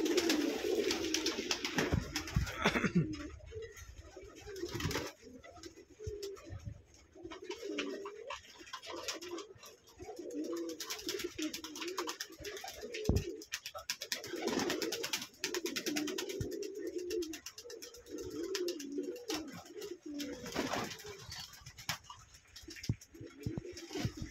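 Pigeons in a loft coo steadily as they gather one by one at morning feeding, a dense, continuous murmur of low calls close by with no talk over it.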